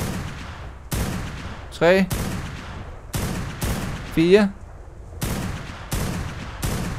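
Video game gunfire rings out as single sharp shots spaced roughly a second apart, with a few whistling, sweeping effects between them. A man counts aloud between the shots.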